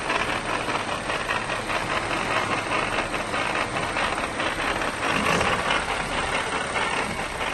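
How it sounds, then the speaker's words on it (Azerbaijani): Gearbox noise from a car with a seven-speed automatic transmission, heard while driving: a loud, steady, rumbling drone that continues unbroken throughout, with no talking. "hərəkət zamanı avtomobilin sürətlər qutusunun səs var idi"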